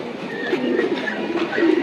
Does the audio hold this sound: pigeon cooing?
yes